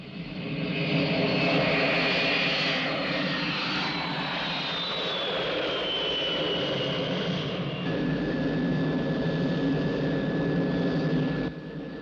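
Aircraft engine roaring in flight, a loud steady drone with a slowly shifting whine, continuous and close, with no talk over it.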